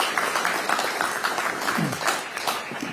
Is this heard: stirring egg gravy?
no